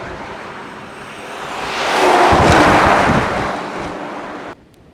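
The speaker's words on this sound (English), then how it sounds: "It's so windy I can barely keep the bike upright" Strong wind buffets the microphone on a solo motorcycle ride, a steady roar that swells into a loud gust midway and then drops off abruptly near the end.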